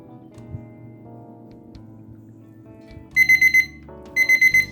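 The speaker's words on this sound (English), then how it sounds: "That's my timer." A timer alarm rings during resin bookmark making, going off in two quick bursts of about four loud, bright beeps each, following a quiet stretch of faint room noise.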